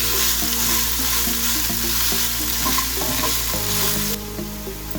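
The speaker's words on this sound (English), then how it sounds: "grated amla and just fry 1-2" Grated amla fries in a pan, close and loud, with a dense sizzling hiss and rhythmic scraping strokes from stirring that carry on throughout and ease slightly near the end.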